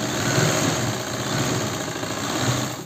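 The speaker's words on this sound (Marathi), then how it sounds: "खालच्या बाजूने छान शिलाई मारून घेते" A sewing machine stitching blouse fabric with a lining layer runs steadily for about three seconds, a continuous close mechanical whir with fine rapid stitching texture.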